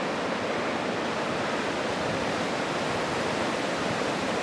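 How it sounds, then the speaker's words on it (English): A winter waterfall at South Mountains State Park, among ice and icicles, roars as a steady, dense rush of falling water, loud and unbroken throughout. "There's the waterfall ahead of us."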